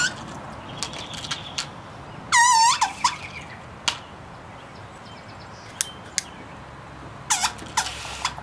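Garden hose squealing outdoors: a loud, shrill, tonal squeal bursts out for about half a second, then a few faint ticks follow, and a second wavering squeal arrives near the end.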